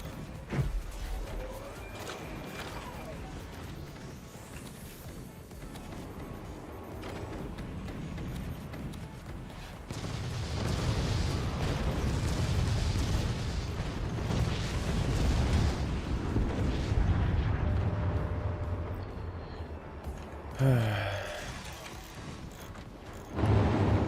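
Artillery fire and explosions rumble through a Forts strategy game, a steady low roar of distant blasts swelling louder midway, with a sharper close impact near the end.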